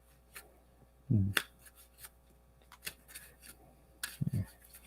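Quiet riffling bursts of cards being shuffled, two louder ruffles a few seconds apart with soft flicks and taps between, close by in a quiet room.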